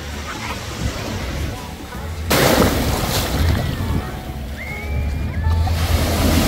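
Ocean surf rolls in at Waikiki Beach, Hawaii, a steady broad wash of waves with a louder surge partway through, mixed with wind buffeting the microphone and faint voices in the background.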